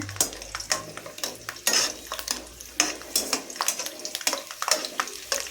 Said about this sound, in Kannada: ಇದಕ್ಕೆ ಸಿಪ್ಪೆ ಸುಲ್ಕೊಂಡಿರುವಂತಹ ಬೆಳ್ಳುಳ್ಳಿನ ಸೇರಿಸಿ ಬೆಳ್ಳುಳ್ಳಿನ ಸ್ವಲ್ಪ ಫ್ರೈ ಮಾಡ್ಕೋಬೇಕಾಗುತ್ತೆ